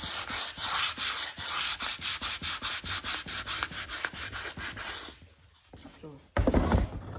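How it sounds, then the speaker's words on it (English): Hand sanding of painted wooden furniture along the grain, steady rhythmic rasping strokes close by for about five seconds, then a pause with a louder scrape. "I want to go ahead and sand it some so it doesn't look like I just painted it."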